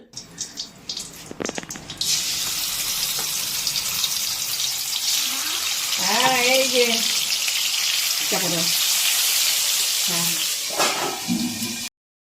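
Catla fish fat spattering as it fries in mustard oil in a covered pan: a steady loud hiss of sizzling with occasional pops, with a voice briefly speaking partway through.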